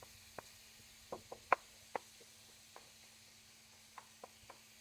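Wooden spoon scraping and tapping as taco meat is scrambled in a pan, heard as faint, scattered knocks and scrapes at irregular intervals over a quiet background.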